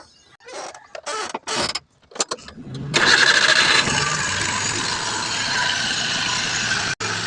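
Suzuki Multicab DA64 engine being started: a few choppy cranking bursts and short stops, then the engine catches and settles into a steady close idle.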